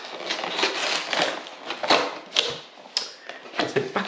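Plastic wrap being torn and peeled off a Lorcana Chapter 3 gift box: close, crinkly crackling and rustling in irregular bursts with sharp snaps, no talking.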